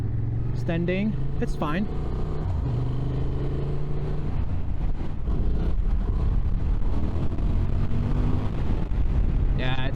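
A 2023 Honda Transalp 750 motorcycle rolling at low speed in second gear, around 20 km/h, gives a steady low engine drone with wind buffeting throughout while the rider talks over it.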